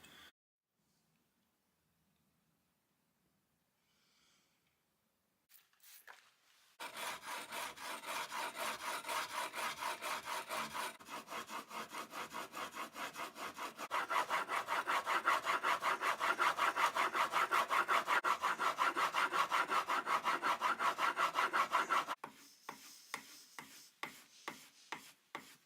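Steel chisel from an Amazon Basics set being honed to a 30-degree secondary bevel. Rhythmic rasping strokes run back and forth on a sharpening stone, loud and close, after a quiet start, and they grow more intense midway before easing into slower strokes.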